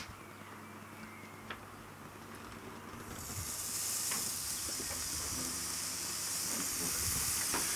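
Halloumi slices hit a hot pan and burst into a loud, steady sizzle that swells after a quiet start and carries on unbroken, with faint clinks of utensils underneath.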